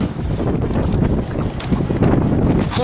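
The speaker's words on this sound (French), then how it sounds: "il y a beaucoup de vent" Strong wind buffets a microphone on a cold rooftop terrace overlooking the London skyline, a loud, continuous rumbling roar with gusty surges and no voices.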